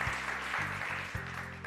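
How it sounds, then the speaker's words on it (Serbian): Studio audience applause on the Serbian TV quiz show Zlatni krug, a dense, steady wash of clapping with a low musical sting or band hits underneath, fairly loud and without talk. "Molim jedan aplauz za Milicu i Turbo"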